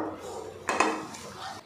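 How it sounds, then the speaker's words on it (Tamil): Soaked seeraga samba rice being stirred into mutton dum biryani in a metal pot, with a couple of sharp ladle scrapes and clanks against the pot followed by softer shuffling of grains. "அரிசி சேர்த்துட்டு நல்லா கலந்து விட்டுடலாம்"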